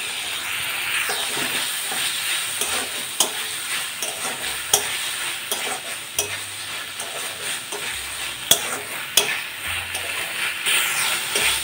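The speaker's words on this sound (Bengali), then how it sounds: "মশলা দিয়ে খুব ভালোভাবে কর্নটা কষিয়ে নিচ্ছি।" Corn with paneer being stir-fried in a pan with spices including Kashmiri chili powder and sugar, a steady sizzle and hiss broken by repeated sharp scrapes and knocks of a spatula.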